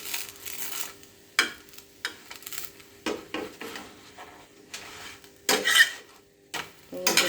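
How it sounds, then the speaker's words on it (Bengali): A freshly made paratha being tipped onto a dish in a home kitchen, giving a series of close, brief clinks and scrapes of metal pan and utensil against the plate, spaced irregularly with quiet gaps between. "এবার আমি একটা ডিশের মাঝে ঢেলে নেব।"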